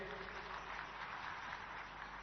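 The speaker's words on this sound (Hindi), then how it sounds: "तो उनके लिए एक बार आप सब लोग ताली बजाइए।" An audience at a public gathering in Chhattisgarh claps on request, a faint, steady wash of distant applause that holds evenly for the whole stretch with no talk over it.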